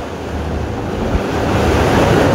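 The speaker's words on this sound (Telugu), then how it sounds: "వాటర్ సర్రమని వెళ్తుంది." Continuous broad roar of water rushing below at a reservoir, steady and loud throughout, with wind buffeting the microphone and no voices.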